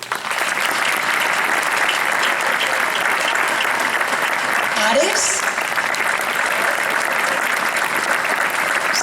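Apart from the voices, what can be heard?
audience applause for performers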